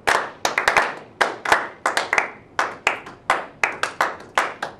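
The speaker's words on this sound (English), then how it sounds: "Everyone clapping at the beginning, right?" A group in a music class claps a rhythm together in unison, with sharp, close claps in short clustered bursts separated by brief gaps and no talking over them.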